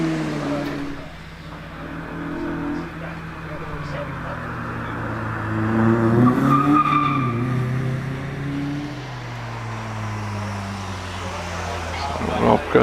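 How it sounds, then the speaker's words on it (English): Mazda MX-5 race car climbing the Prescott hillclimb course, its engine note rising and falling through gears over roughly thirteen seconds, heard under a commentator's continuous voice. "Steve Perry continuing on up the hill in the MX-5"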